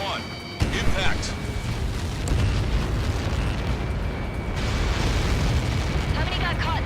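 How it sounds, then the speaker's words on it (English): A missile strike in Ace Combat 7 erupts into a massive explosion, a sharp onset followed by a sustained, roaring rumble that fills the whole stretch, with radio voices talking over it. "How many got caught in that explosion?"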